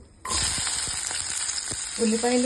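Sliced onions hit hot oil in a pan and start frying, sending up a sudden loud, steady sizzle that carries on with a few scraping stirs and clinks underneath.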